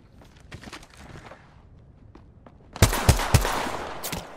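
Gunfire in the video game Apex Legends, with light footsteps and scattered shots leading into a sudden loud burst of rapid fire and heavy blasts.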